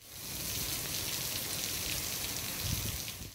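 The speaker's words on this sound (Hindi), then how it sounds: "इस्लामाबाद और रावलपिंडी में बादल बरस पड़े" Heavy monsoon rain pours down steadily over Islamabad and Rawalpindi, a dense, continuous hiss of falling water that is loud and unbroken throughout.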